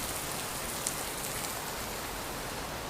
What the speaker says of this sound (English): You can see the sheets of rain